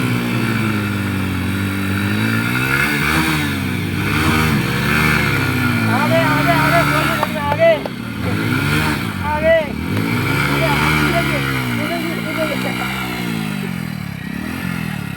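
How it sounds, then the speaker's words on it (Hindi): Two motorcycles, an HF Deluxe and a TVS Sport, rev hard in a tug-of-war contest, their loud engines droning and rising in pitch together close by, with voices talking over the noise. "अभी हम दोनों को कर रहे हैं टोचन और दोनों को देखेंगे कौन सी बाइक किस बाइक को खींच कर ले जाती है"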